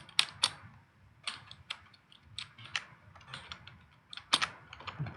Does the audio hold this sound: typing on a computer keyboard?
yes